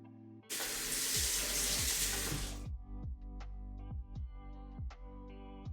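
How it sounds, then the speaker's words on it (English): A tap runs loudly into a little bowl for about two seconds, then stops, leaving a series of clear drips and small clinks in a quiet kitchen. "a little bowl I'm gonna fill with water."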